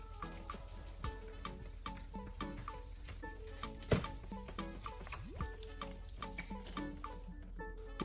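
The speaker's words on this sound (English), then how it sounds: "Rinse the entire headlight surface clean." Water runs and splashes over a car headlight being rinsed after sanding, a steady trickling patter with scattered drips and small splashes, fairly quiet and close, with no talking.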